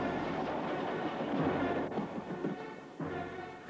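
A train rumbles steadily toward a bridge in a TUGS model-boat episode, a continuous loud roar of rolling wheels with slight shifts in pitch and no talking.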